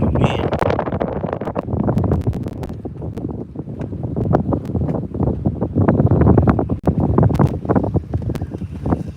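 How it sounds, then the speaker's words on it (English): Strong wind blows across the microphone on an open bass fishing boat, gusting continuously and loudly with buffeting bursts and faint water slapping under it. "We're back out here in the wind."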